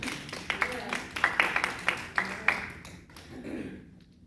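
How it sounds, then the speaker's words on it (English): Scattered clapping from an event audience, a few distinct claps and a sparse patter for a few seconds before fading, with voices underneath. "I think again that's worth an applause."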